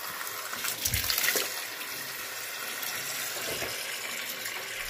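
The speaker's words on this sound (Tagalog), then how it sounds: "Atin itong pupunin ng tubig," Tap water runs steadily into a container to wash salad greens, a continuous splashing hiss with a few brief louder gushes, fairly faint and heard without talk.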